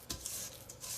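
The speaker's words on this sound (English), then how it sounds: "So I'm just going to scrape down the sides of my bowl" A rubber spatula scrapes around the sides of a mixing bowl of gingerbread cookie dough in several short, soft swipes that follow each other quickly, close and faint, with no voices.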